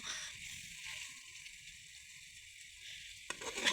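Raw tengra fish and potatoes sizzle softly in a pan as they are sautéed, a faint, continuous crackling hiss that stays low and close, with a small clatter near the end.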